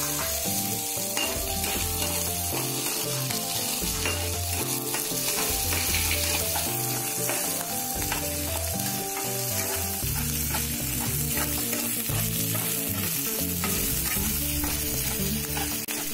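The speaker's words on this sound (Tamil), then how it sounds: "கூடவே சின்ன வெங்காயமும் சேர்த்திக்கலாம்." Small onions frying in hot oil with cumin and rice for a Salem-style fish curry, giving off a dense, continuous sizzle that stays steady and close for the whole stretch.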